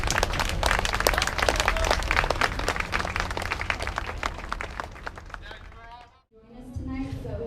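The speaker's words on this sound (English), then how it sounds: "give you guys a round of applause" Audience applause at an evening art walk event, dense sustained clapping from a crowd that fades out near the end before a voice resumes speaking.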